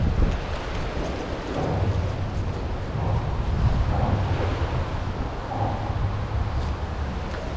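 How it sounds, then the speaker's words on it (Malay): Strong wind blows by the sea at the second Penang bridge while fishing, buffeting the microphone with low rumbling gusts over the wash of waves, loud and continuous. "Oh, kuat angin ni."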